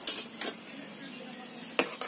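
A utensil stirs muskmelon (kirni fruit) halwa in a pan, giving a few light clinks and scrapes against the metal with soft rustling in between, close and fairly quiet.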